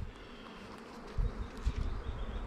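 Honey bees buzzing at a hive frame, a faint steady drone close by with a couple of low thumps of handling partway through.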